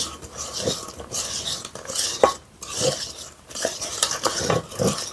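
A Korean cheese egg mixture is stirred in a pan, with continuous scraping and clinking of a utensil against the pan in an irregular rhythm, close and moderately loud, no voices.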